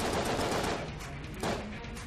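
Rapid automatic gunfire from a weapon in the video game Enter the Gungeon, a dense rattling burst that runs continuously with a brief second surge, loud and up front with no talking.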